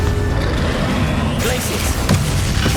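Confringo spell explosion in the video game Hogwarts Legacy, a loud burst and crash landing amid dense, constant battle noise, with several sharp impacts toward the end.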